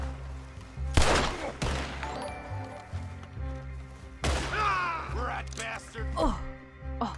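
Gunfire in Red Dead Redemption 2 comes as a few loud, sharp shots with gaps between them over game music and gasps, and a player's voice can be heard reacting.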